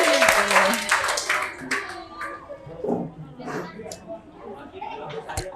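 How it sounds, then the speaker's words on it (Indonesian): Teachers and children clapping together in a school gathering, a short round of applause that quickly fades into scattered claps, laughter and children's chatter. "Tepuk tangan untuk Bapak Ibu guru semuanya."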